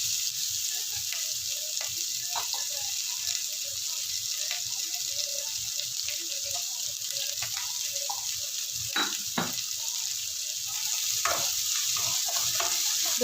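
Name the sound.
sautéing onions in a pan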